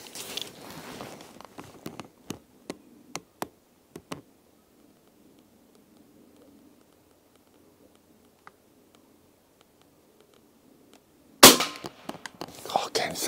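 A suppressed WW2 De Lisle carbine fires PPU 230 grain rounds, a series of quiet sharp cracks spaced a second or so apart, with a soft murmured voice early on and a louder burst of talk at the end.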